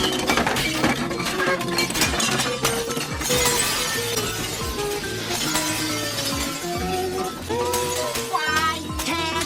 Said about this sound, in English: In seconds, every single shell in the shop was smashed.